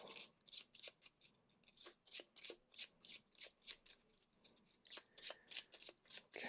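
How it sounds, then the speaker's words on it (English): A large deck of cards is riffle-shuffled repeatedly for a board game, giving a quick run of crisp, close fluttering bursts at a steady rhythm, fairly quiet and with no talking. "Shuffle some stuff up. Wow, this is a big deck of cards."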